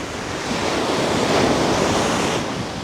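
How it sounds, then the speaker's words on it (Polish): Ocean waves break loudly close by on a Sri Lankan shore, one surge swelling and rushing up the shore over a constant windy roar. "I te fale."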